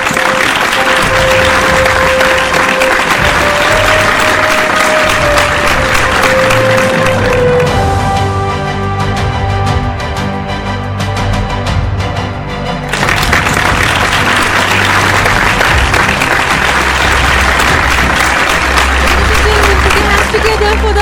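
A large audience at a scientific award ceremony applauds an award winner, loud sustained clapping that briefly dips mid-way while a tone and voices carry over it, then swells again to full strength.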